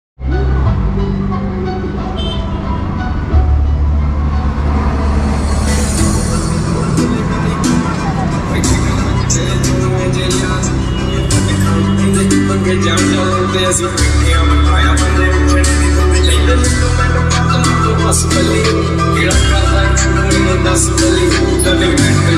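Music plays loudly and continuously through an aftermarket speaker system inside a modified 2023 Maruti WagonR CNG, full and bass-heavy, with faint voices underneath.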